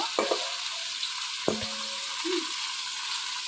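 Food fries in oil with a soft, steady sizzle, broken by a couple of sharp utensil clinks and brief scraping stirs close by.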